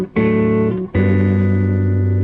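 A vintage Fender Vibro Champ guitar amp sounds sustained guitar chords through a distorting speaker, with a brief dip before a second louder chord rings on, tremolo pulsing faintly; no talking.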